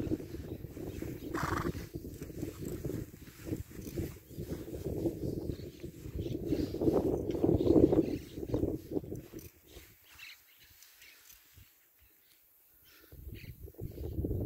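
A purebred criollo horse walks under a rider. Its hooves clip-clop in a steady rhythm nearby, with some snorting, before the steps grow quieter near the end.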